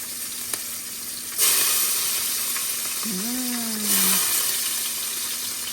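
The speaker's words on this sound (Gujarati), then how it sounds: "જો મમ્મી શાક હવે વઘાર્યું તો તમને બતાવું મમ્મી કઈ રીતે વઘાર્યું" Vegetables dropped into hot oil for tempering give a loud, close, steady sizzle and hiss, swelling in two bursts as they hit the pan, with a brief tonal squeak of utensils midway.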